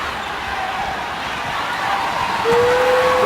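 A WNBA playoff crowd roars in the arena during a Chicago Sky versus Indiana Fever game, a loud, sustained wash of cheering that swells toward the end, with a sharp whistle and commentators talking over it.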